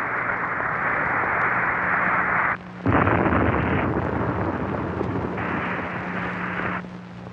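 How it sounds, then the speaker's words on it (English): Titan II missile blowing up during a test launch, a loud sustained roaring blast with broad rumbling noise that dips briefly then surges again, continuous for several seconds with no voices. "The missile is destroyed."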